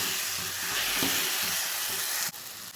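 A banana, grated coconut, cardamom and sugar mixture sizzles steadily as it is stirred in a hot pan, a continuous close frying hiss with faint scraping strokes and a brief dip near the end.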